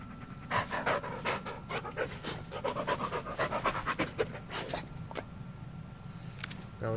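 A dog panting in the Blair Witch video game, rapid rhythmic breaths running steadily and close up, with a brief rustle partway through and no talking.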